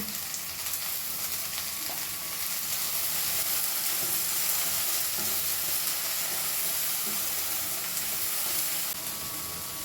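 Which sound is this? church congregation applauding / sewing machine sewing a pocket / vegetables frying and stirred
vegetables frying and stirred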